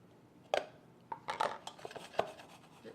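Chopped onions tumble into a soup pot already holding sweet potatoes, a handful of soft thuds and clattering knocks against the pot, fairly quiet, with short pauses between them.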